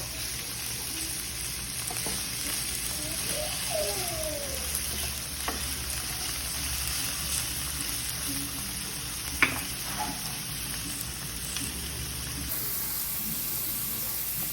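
Meat frying in a pan with occasional stirring gives a steady, moderate sizzle and hiss throughout, with a few brief scraping clicks and no talking.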